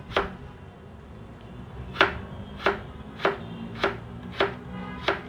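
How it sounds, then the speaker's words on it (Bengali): A knife finely chopping yardlong beans on a board, about eight distinct crisp cuts spaced roughly half a second apart, close and clear over faint background noise, with no talking. "এই এভাবে কাটার পর এটাকে ঠিক এভাবে কুচি কুচি করে কেটে নেবেন"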